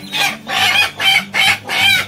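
A village hen clucking near chicks, five quick, close, rhythmic clucks in a short burst, loud and clear with no talking.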